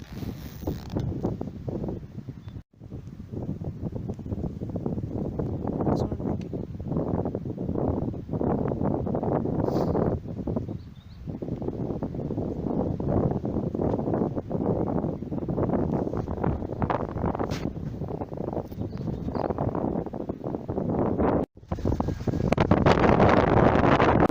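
Steady, loud cold wind buffeting the microphone in a foggy Bhutan mountain landscape, a continuous roar with brief dropouts and no voices.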